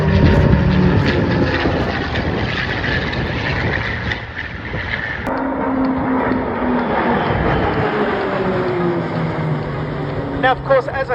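A V12 warbird aircraft engine drones at an airshow, a loud, steady roar with a shifting pitch as the plane passes, and a person talks over it throughout.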